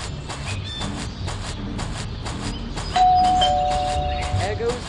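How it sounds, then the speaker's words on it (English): A doorbell in the Scary Stranger 3D video game rings with a repeated chime over a steady rhythmic game background, loud and pulsing, then a sustained tone near the end. "There goes that stupid bell again."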